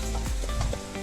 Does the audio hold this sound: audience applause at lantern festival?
no